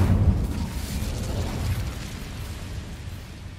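Incendio fire spell from the Hogwarts Legacy video game, a loud fiery burst with heavy low rumble that trails off into a roaring, gradually fading blaze.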